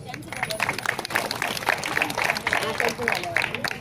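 Applause from a crowd of women at a municipal election campaign gathering, sustained dense clapping lasting a few seconds with some voices mixed in.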